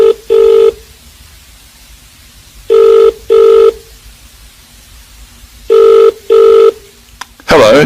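A telephone rings in three paired bursts of two trilling tones with short silences between, loud and close, before a phone call, with a brief clatter at the end.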